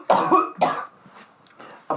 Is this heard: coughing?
yes